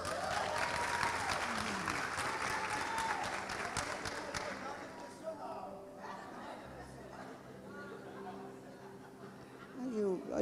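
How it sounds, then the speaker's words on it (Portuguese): Audience applause at a couples' conference session, dense clapping for the first half that thins out into scattered claps with crowd chatter and talk, with a brief burst near the end. "Aí merece um aplauso"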